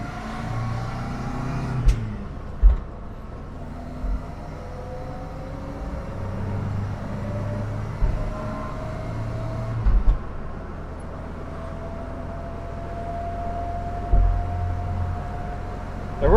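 A 1970s-era Vauxhall Viva HC small saloon car cruising on an open road around 40 mph, its low engine drone steady from inside the cabin, with occasional thumps and gear-change rises over a constant road rumble.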